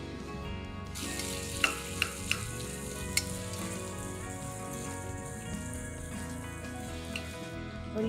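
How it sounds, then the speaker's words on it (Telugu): Sliced onions sizzle and crackle steadily in hot oil in a pan for a home-style veg biryani, with a few sharp pops and clinks of stirring along the way; no one speaks. "టపటప అంటూనే ఉల్లిపాయలు వేసేద్దాం"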